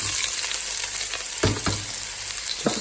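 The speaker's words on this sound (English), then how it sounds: "And then we have a hot pan, and then I'm just gonna fry it. It's gonna make hell of a noise." Onions frying in a hot pan give a steady, loud sizzle and crackle, with a few sharper bursts as they are stirred or tossed, and no one talking.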